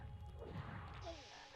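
A hammer smashes dragon toads in the PS1 game MediEvil, a dense run of heavy crashing impacts and thuds over a busy game background.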